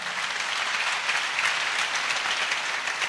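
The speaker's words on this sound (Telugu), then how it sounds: "గట్టిగా చప్పట్లు కొట్టు స్తోత్రాలు చెప్దాం." A church congregation bursts into loud, sustained clapping, a dense wash of many hands heard up close. It keeps a fairly even intensity for the whole stretch.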